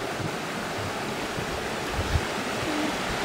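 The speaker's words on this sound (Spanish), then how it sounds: "Arriba de la cascada." Rushing waterfall at Cascadas Arcoíris in Puebla, heard from the top of the falls: a steady, dense roar of broadband water noise with light wind buffeting on the microphone, continuous throughout.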